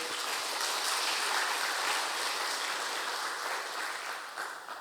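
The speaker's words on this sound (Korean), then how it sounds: "영광의 박수." An Easter Sunday church congregation applauds in a dense, steady wash of clapping that carries on for several seconds, then thins slightly near the end, with no voices over it.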